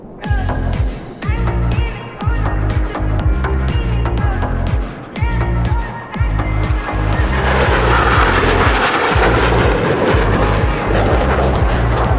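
Blue Angels jets performing opposing horizontal rolls in the DCS World flight game, a loud, pulsing engine roar that swells into a dense, sustained rushing jet blast as the aircraft close in.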